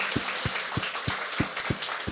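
A church congregation at a Sunday service at Bundang Hana Church claps together in a steady rhythm of about three beats per second, with sharp, evenly spaced hand claps and no talking over them.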